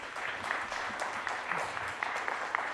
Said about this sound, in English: And we can hear this clap on a Sunday afternoon.